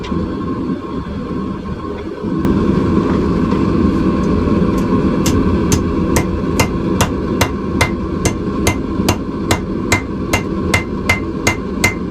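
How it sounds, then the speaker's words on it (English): About sixteen sharp, evenly spaced hammer blows ring out on heated steel laid on an anvil while a twist-handle fork is forged, following a steady background rumble. "we'll flatten it out a little bit on the anvil"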